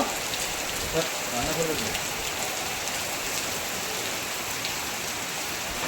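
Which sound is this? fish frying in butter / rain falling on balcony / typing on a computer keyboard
rain falling on balcony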